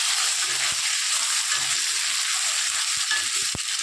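Chopped tomato hits very hot oil and fries with a loud, constant close sizzle, broken by a few faint clicks and knocks of a utensil against the pan.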